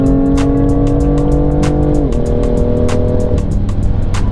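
A loud BMW M2 engine roars and revs with a rumbling exhaust note, pitch dipping briefly mid-run, with rapid crackling pops throughout.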